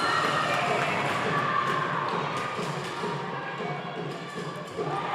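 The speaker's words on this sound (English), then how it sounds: "The crowd is loving this." A crowd cheers and shouts steadily at a foam dodgeball mixed final between Mexico and the USA, with dense, loud, continuous roaring and occasional thuds beneath a commentator's voice.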